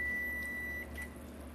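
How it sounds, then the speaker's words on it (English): A kitchen timer goes off while spicy apple jelly made with Sure Gel cooks on the stove: a steady electronic tone holds for about a second, then a short second beep follows over a low kitchen hum. "Oh, my timer went off."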